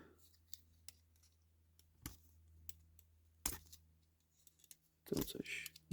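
Scissors handled while unboxing Opinel and other pocket knives, a few sparse sharp clicks and snips, with a louder rattling clatter near the end over a quiet room hum.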